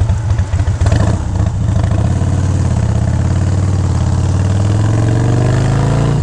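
A carbureted Harley-Davidson motorcycle engine runs loud and close, a rumbling low-pitched throb that steadies and rises slightly in pitch toward the end, with no talking.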